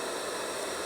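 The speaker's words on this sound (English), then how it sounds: "Pink noise." A white noise machine, model BRRC122, runs on its pink noise setting, producing a steady, even, continuous hiss with no other sounds.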